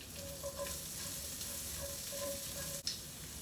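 Sliced red onion and green pepper sizzle steadily in olive oil in a pan for a beef stir fry, a constant moderate frying hiss with light stirring clinks and one sharp knock near the end, no talking.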